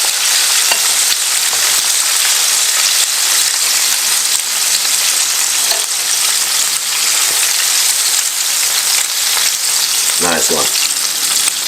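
Chicken fries in hot oil with a loud, constant bubbling sizzle up close, and a brief spoken remark and a clink toward the end.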